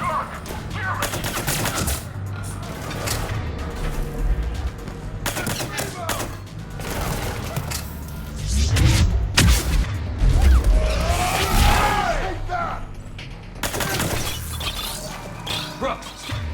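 Mass Effect 3 firefight, with repeated gunshots and bursts, shattering impacts and crashes layered over a dense combat mix, heaviest in the middle, with voices heard briefly.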